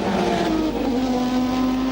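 Formula One race cars roaring past at the 1988 Hungarian Grand Prix at the Hungaroring, Berger's car overtaking Nigel Mansell's Williams Judd, a loud continuous high engine whine with a rising and falling pitch.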